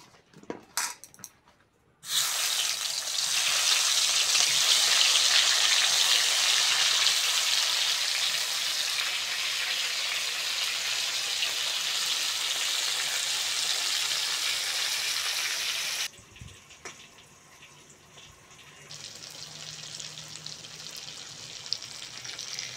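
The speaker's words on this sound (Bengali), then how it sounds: "ইলিশ মাছের তেলে অল্প করে হলুদ দিয়ে বেগুনগুলো ভেজে নেব।" Eggplant slices frying in hilsa fish oil with a little turmeric hiss in a loud, steady sizzle that begins after a few clunks, then drops abruptly to a quieter crackle with occasional pan knocks.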